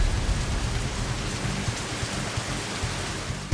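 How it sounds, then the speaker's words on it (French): Heavy rain pours steadily, a dense hiss of drops hitting surfaces with a low rumble underneath, constant and close. "Là, on prend une bonne averse."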